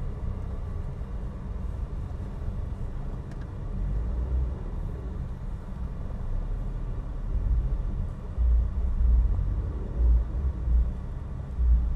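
A car pulls away uphill as the clutch is fully released, a low engine rumble building and surging in pulses inside the cabin, steady and moderately loud without speech.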